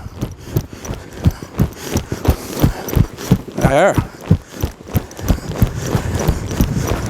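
A mare with hindquarter conformation problems is ridden at a steady, sustained pace, her hooves clip-clopping in a regular close rhythm, with a brief spoken word partway through.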